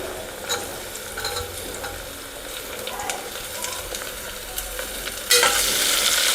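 Onions frying in a pan for rice bath give a continuous close sizzle with occasional stirring scrapes, then a sudden louder, brighter hiss near the end.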